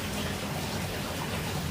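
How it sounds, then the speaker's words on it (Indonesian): Light drizzle falling outdoors, a steady dense patter and hiss of rain that holds even and fairly loud throughout, with no talking. "Di sini hujan tahu, gerimis tahu kok."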